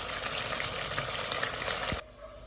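Beef browns in a hot pan for a stir fry, giving a close, busy sizzle and crackle that stops abruptly, leaving quiet room tone.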